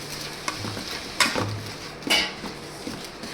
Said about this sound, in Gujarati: જ્યાં સુધી ઓલું ન થાય ને ત્યાં સુધી એને હલાવ્યા રાખવાનું